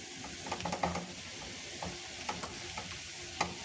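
A spoon stirs and sautés a powdered peanut mixture in a pan, giving soft scraping and clicking strokes in an irregular rhythm over a steady low sizzle, close and fairly quiet.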